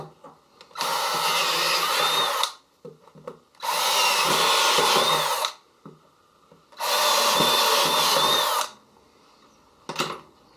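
A power drill whirs in three separate bursts of about two seconds each, loud and close, with quiet pauses and faint handling noises between them.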